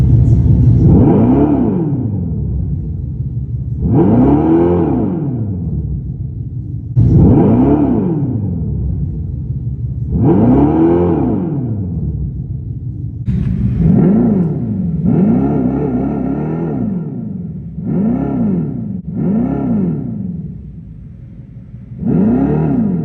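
A Dodge Charger Daytona Scat Pack EV, the first electric Charger, revving through a series of rising and falling synthetic engine-like swells, several long sweeps followed by quicker repeated bursts, loud and close.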